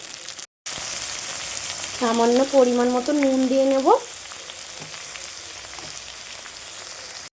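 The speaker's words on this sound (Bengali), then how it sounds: "পেঁয়াজটা একটু লাল লাল করে ভেজে নেব পেঁয়াজের ওপরে টমেটো কুচিটা দিয়ে দেবো" Onion and tomato fry in a pan, giving a steady sizzle throughout while someone talks over it partway through.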